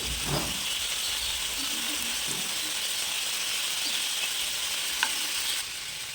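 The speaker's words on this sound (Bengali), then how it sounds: "তো এখন হচ্ছে চিকেনগুলোকে আমি উল্টিয়ে দিচ্ছি" Coriander chicken kebabs sizzle in a pan while being turned over, giving a faint, steady frying hiss with a few soft clicks and knocks.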